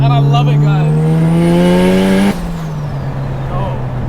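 A big-turbo bridgeported 13B rotary Mazda RX-7 drives hard, its loud, buzzy engine note climbing steadily in pitch before abruptly dropping as the throttle lifts, with a lower, rougher drone continuing afterward.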